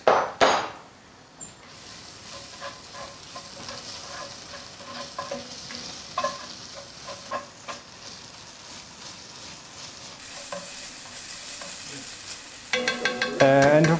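Borscht ingredients, among them a teaspoon of sugar, are stirred in a pot: a sharp knock opens a run of soft scraping and clinking spoon strokes over a low sizzle, ending in a brief louder clatter.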